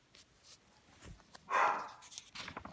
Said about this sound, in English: barking because the neighbors are out there